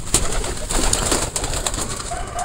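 Pigeons kept in a backyard loft coo steadily over a constant hiss of outdoor background noise, with a few sharper calls rising briefly above the cooing.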